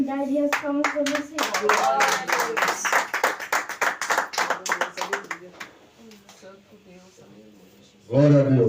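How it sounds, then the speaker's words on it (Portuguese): A church audience claps in a quick, even rhythm along with sung worship. The clapping fades out, and a voice comes in at the end. "Agradeço a oportunidade e as palmas para você."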